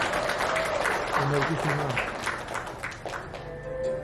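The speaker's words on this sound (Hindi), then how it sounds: "एक बार सारी स्टार कास्ट के लिए जोरदार तालियां हो जाए।" Loud applause for the star cast at a Zee TV show event for "Jamai No.1", steady clapping filling the whole stretch with a faint musical tone near the end.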